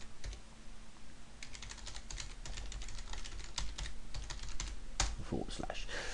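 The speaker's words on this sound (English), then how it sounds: "I'll hit the enter key just to tell the software that we're looking at a new URL now" Keys clatter on a computer keyboard in a run of quick typing, with a firmer final press of the enter key, close and moderately loud over a steady low hum.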